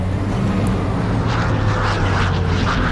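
Aircraft engine roar from the PC combat game Gunner, HEAT, PC as a plane flies in, a loud, steady broadband drone with low rumble holding constant throughout, no speech.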